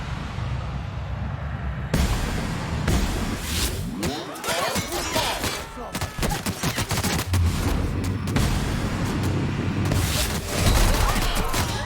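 Rapid bursts of video game gunfire crackle and boom across the whole stretch, volleys overlapping with heavier blasts, loud and dense throughout.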